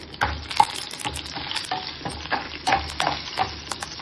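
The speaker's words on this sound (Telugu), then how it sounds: "వెల్లుల్లి లైట్గా వేయించాము" Garlic tempering sizzles in hot oil for a chutney, a continuous close fry broken by repeated stirring scrapes and clinks of a spoon against the pan.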